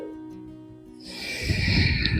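After a brief tonal lead-in, a long, steady, breathy inhale during the yoga cat-cow pose rises close to the microphone, airy and sustained.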